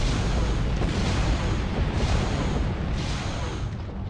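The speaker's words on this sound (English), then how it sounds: "Torpedoes." Starship torpedoes firing and exploding in Star Trek Online, a loud sustained rumbling roar of booms and blasts that swells in waves and holds throughout.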